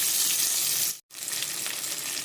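Grated raw mango sizzles loudly as it hits a hot tempering with green chillies and curry leaves, a steady close frying hiss broken by one brief silent cut.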